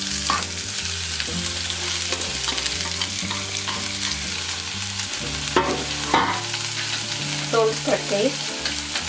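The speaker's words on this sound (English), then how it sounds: "With this I'm adding cabbage and carrot." Cabbage and carrot sizzle loudly in hot oil with crackled mustard seeds and a pinch of hing, stirred with scraping spoon strokes and a few clinks, while a voice speaks briefly over the frying.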